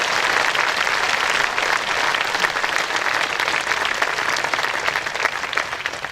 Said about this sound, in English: Now, a big round of applause.